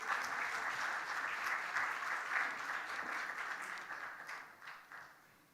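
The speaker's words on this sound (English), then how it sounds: "let's welcome with a big round of applause" Warm, steady applause from a conference audience welcoming a speaker at a conclave, a dense wash of clapping heard at a distance that gradually fades over about five seconds.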